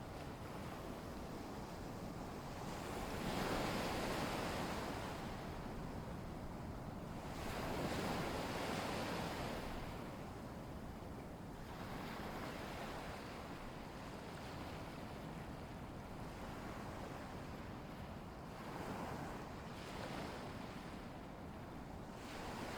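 Waves on a lagoon wash in and recede in slow, rhythmic surges every few seconds, a soft, steady roar of surf with wind in the background and no voices.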